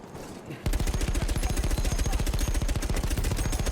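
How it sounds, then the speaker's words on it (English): A rapid, even burst of automatic gunfire from the video game Battlefield 1 starts after a short quiet lead-in and then hammers on without a break, loud and close. "Where are they shooting at me from?"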